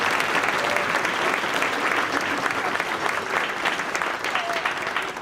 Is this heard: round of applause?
yes